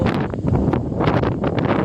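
Strong wind buffets the microphone outdoors near the Bhadar river under cloudy skies, loud rumbling gusts that swell and ease over a short stretch with no voices.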